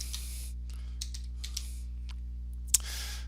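Typing on a computer keyboard gives a short run of faint, separate key clicks over a steady electrical hum, with one sharper tap near the end.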